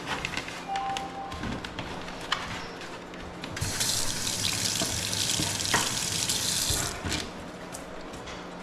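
Tap water runs into a bowl while mutton and paya are washed: steady splashing that swells into a loud, full gush midway, then eases back, close by with no talk.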